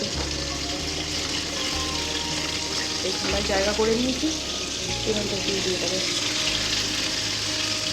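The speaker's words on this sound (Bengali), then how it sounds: "এখানে এই মাছগুলো ভাজা হচ্ছে" Fish frying in a pan in a home kitchen, a steady sizzle running throughout with some running water and utensil clatter, under someone talking.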